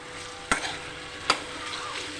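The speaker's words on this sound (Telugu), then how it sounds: "ఇప్పుడు దీంట్లో మనం అల్లం వెల్లిపాయ పేస్ట్ వేసుకుందాం వేసుకొని ఒకసారి అంతా బాగా కలుపుకోవాలి" Frying potatoes crackle softly in a pan as ginger garlic paste is stirred in, with two distinct scraping knocks of the spoon over a steady sizzle.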